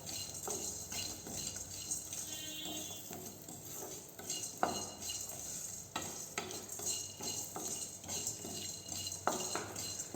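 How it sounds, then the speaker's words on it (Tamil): Garlic cloves frying in a pan with spices for a traditional selavu rasam, a soft continuous sizzle under repeated scrapes and knocks of a metal spoon stirring against the pan. "பூண்டு நல்லா வதங்கி வரணுங்க."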